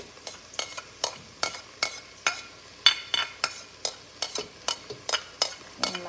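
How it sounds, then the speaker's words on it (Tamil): Fennel, fenugreek, mustard seeds and cinnamon are stirred in hot oil for a chicken curry. A low sizzle runs under regular, rhythmic scraping strokes of a spoon against the pan. "எல்லாத்தையும் சேர்த்து நல்லா வதக்குங்க"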